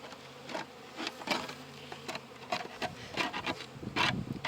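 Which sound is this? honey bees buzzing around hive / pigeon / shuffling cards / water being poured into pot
honey bees buzzing around hive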